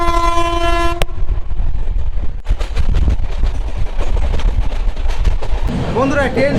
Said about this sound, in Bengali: ট্রেন তার নির্দিষ্ট গতিতে চলা শুরু করে দিয়েছি